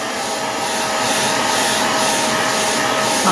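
A hair dryer blows continuously on curly knitting yarn to straighten it, a loud, steady, close-up rushing roar with no break.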